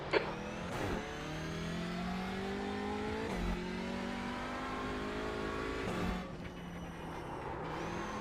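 Audi LMS Gen 2 touring car racing in iRacing at St. Petersburg, its engine droning steadily with repeated rising revs and sharp gear shifts, loud and continuous.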